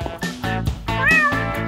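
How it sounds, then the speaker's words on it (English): Small fluffy kitten meowing, a run of close, loud, rising and falling cries, the last one long and drawn out. "This is my kitten, hands off."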